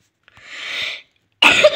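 Two sharp coughs close to the microphone, the first drawn out and raspy, the second a short loud burst.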